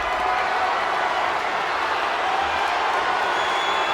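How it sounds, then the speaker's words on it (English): A dense, steady roar of a large crowd cheering, loud and continuous, like an arena audience in the wrestling game WWE 2K25 during an ambulance match. "What a raucous crowd here tonight."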